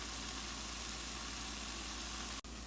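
Grated carrot halwa roasts in ghee in a pan, giving a steady, even sizzle with a constant hiss and no pauses apart from one brief dropout near the end.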